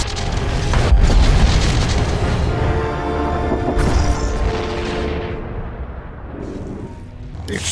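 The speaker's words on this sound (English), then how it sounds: "The explosion shook the ground." A ship blows up in the Star Wars: The Old Republic video game, a loud deep boom with a rumbling roar that swells again midway, then slowly fades under lingering debris noise.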